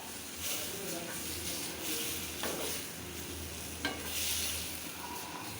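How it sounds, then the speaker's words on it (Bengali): Eggplant curry frying in oil in a home kitchen, with a steady soft sizzle and a few scraping stirs of the spoon, close and continuous with no talking. "তেল বেগুন আর একটু হবে তারপরে আমি নাড়িয়ে ফেলবো"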